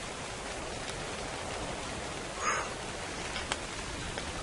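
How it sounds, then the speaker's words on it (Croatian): Rain falling in the video game ARK Survival, a steady soft hiss of downpour with a brief louder rustle midway, continuous and moderately quiet with no talking. "Tek je došla ova asina kiša."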